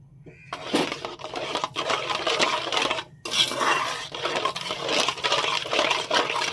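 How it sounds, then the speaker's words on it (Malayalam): A spoon scrapes and clinks against a metal pan while stirring a milk and milk powder mixture for milk peda, with close, irregular clattering strokes and one short pause partway through. "അതുകൊണ്ട് കൈവിടാതെ നമ്മൾ ഇളക്കി കട്ടയാക്കണം."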